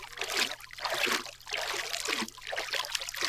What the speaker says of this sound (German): Ich nutze die Gelegenheit und trinke einen Schluck gutes Wasser.